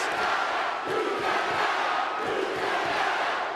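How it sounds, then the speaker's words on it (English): A wrestling arena crowd at a WWE SmackDown title match roars and chants in unison, a dense, rhythmic wash of many voices swelling and dipping over a few seconds. "His crowd chanting, "You tapped out," just seems to feed that fire that Brock Lesnar has inside."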